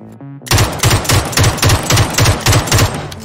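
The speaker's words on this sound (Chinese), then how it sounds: "MK47 18发中2发，真是委屈你了" MK47 rifle gunfire in the PUBG battle royale video game: a quick string of loud, evenly spaced single shots, about ten in a little over three seconds, after a short quiet lead-in.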